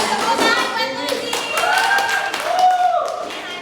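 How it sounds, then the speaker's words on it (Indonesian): Classroom clapping for a student during a school lesson, scattered hand claps and taps mixed with children's voices and talk running over them throughout. "tepuk tangan buat Uzi."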